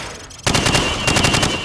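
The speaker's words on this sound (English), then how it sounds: "Now, shoot at the targets while firing from the hip" Rapid automatic rifle fire from hip-firing in Call of Duty 4, a loud, dense string of shots kicking in abruptly after a brief quiet moment and continuing steadily.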